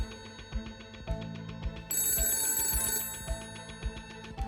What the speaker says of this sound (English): a man named Harley Andrew Byrd received an urgent phone call.